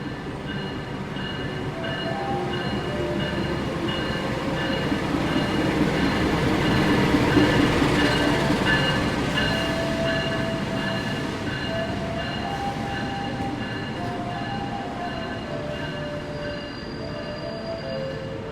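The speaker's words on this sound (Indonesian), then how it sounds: "Kereta api Anggrek sudah masuk di jalur 1 ya." KA Anggrek passenger train pulling into Semarang station, a loud sustained rumble of rolling cars with long high wheel squeals and brake tones rising and fading over many seconds, close by and without talk.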